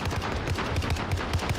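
Rapid bursts of automatic gunfire from a Gao and a Kar 98 in the Call of Duty Warzone video game, crackling in a quick, uneven rhythm throughout.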